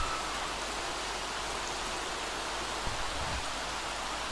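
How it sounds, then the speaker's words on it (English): Steady, dense rain hiss in a video game fills the clip from start to finish, an even wash of falling water with no voices over it. "It's really raining out the side there."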